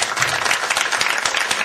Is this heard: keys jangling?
no